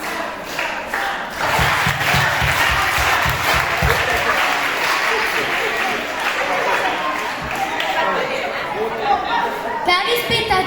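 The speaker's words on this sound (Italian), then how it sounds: "un applauso alla nostra grande vicepreside" Audience at an Italian primary school end-of-year show in Naples applauds the vice principal, a sustained wash of clapping with crowd chatter mixed in and a voice talking over it.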